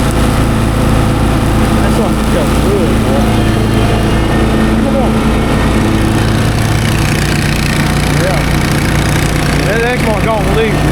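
A lawnmower engine runs steadily and loudly at close range with a constant droning hum, while a person talks over it.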